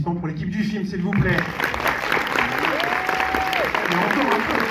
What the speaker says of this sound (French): Un peu d'applaudissements pour l'équipe du film, s'il vous plaît.